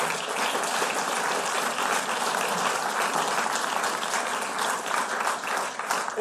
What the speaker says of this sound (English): Can we have just a round of applause for all of those people?